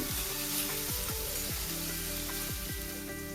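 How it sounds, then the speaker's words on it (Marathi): Green chilli and garlic sizzle in hot oil in a pan, a dense close frying hiss broken by several quick scraping strokes of a spatula stirring them. "मिरचीचा आणि लसणाचा कच्चापणा निघेपर्यंत मस्त असं परतून घ्यायचं आहे."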